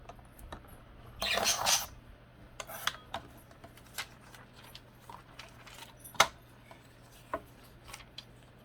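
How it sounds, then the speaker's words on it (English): Scissors cut a grilling picture out of recycled paper for a gluebook, making a burst of crisp paper snipping followed by scattered soft clicks and rustles of handling, close and fairly quiet. "So let's cut out this grilling image."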